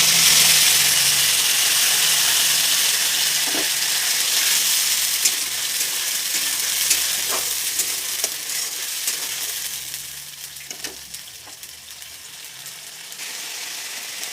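Spice paste and cashews sizzle steadily in hot oil in a pan, a loud, dense frying hiss that eases slightly over time, with occasional stirring clinks and scrapes.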